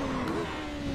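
Radical SR8 race car in a racing sim at Silverstone, braking hard with the tires locked up and no ABS: a loud, continuous tonal squeal over steady engine rumble, with no talk.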